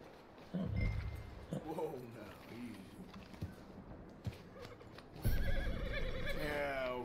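A horse whinnies loudly in Red Dead Redemption II, with hoof clops and a person talking over it, then a second longer neigh rings out toward the end.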